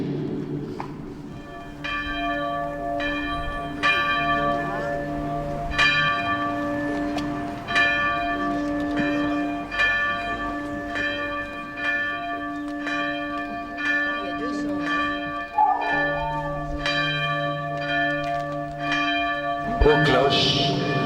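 Church bells of Noyers church ring steadily, with repeated clanging strikes layered over a sustained, resonant hum that carries through the whole stretch at a fairly even loudness.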